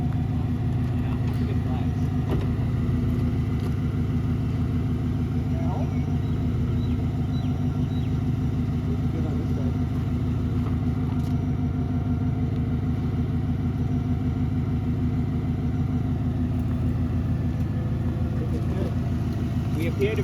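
A car engine runs steadily as the vehicle drives along a street after a repair in a mechanic's shop, a loud continuous low drone with a faint rattle on top.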